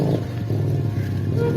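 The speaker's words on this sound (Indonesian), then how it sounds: "Aduh, itu ada suara motor." Motorcycle passing on a road near rice fields, a brief close engine drone with low rumbling tones lasting about a second and a half.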